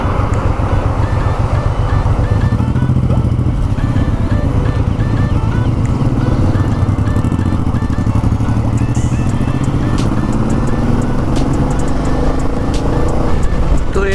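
Royal Enfield Meteor 350 motorcycle being ridden on the road, its engine thumping steadily and loudly beneath heavy wind and road noise throughout, with a rider speaking faintly at times.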